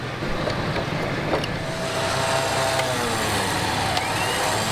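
A truck drives out under its own power during an off-road vehicle recovery, its engine a steady loud rumble close by with faint shifting whines and no talk.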